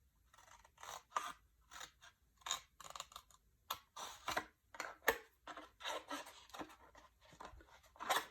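Scissors snip through paper to cut out a Christmas ornament, a quick series of crisp, close cuts with short gaps between them, quiet and with no talk.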